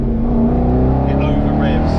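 Aston Martin Vantage GT8 engine revving in sport mode, a steady sustained drone heard from inside the cabin, with the pitch rising slightly as the revs build.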